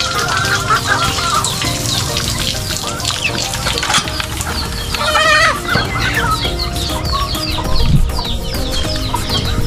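Chickens at a layer poultry farm cluck steadily as they are fed, a dense overlapping chorus of hens close by with occasional wing flaps and a distant crow, continuous throughout.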